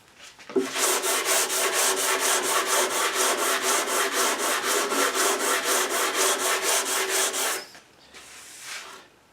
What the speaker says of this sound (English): the last thing you do, sand the top, and it squares off those edges real nice